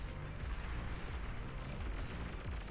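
Explosions tear through a stronghold in the strategy game Beyond All Reason, a dense, continuous low rumble of blasts and booms with no pauses.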